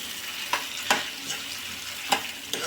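Gongura and coriander tempering for a bottle gourd gongura curry sizzles steadily in hot oil. A spoon stirs it with a few sharp scrapes and knocks, close and fairly quiet.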